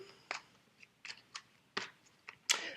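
Tarot cards shuffled by hand in a quiet room, a series of short, soft riffling bursts spaced irregularly, with a slightly longer, brighter riffle at the end.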